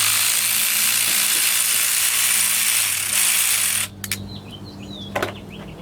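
A ratchet wrench clicks rapidly and continuously while loosening a bolt on an Audi 2.0 TFSI engine during an overhaul, close and steady, then stops, followed by a few faint handling clicks.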